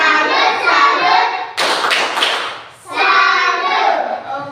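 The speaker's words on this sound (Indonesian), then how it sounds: "mari kita tepuk salut untuk kelompok Junaya" Classroom group doing a rhythmic tepuk salut cheer: a short burst of several loud claps and thumps sits between stretches of children chanting together in unison, all close and lively.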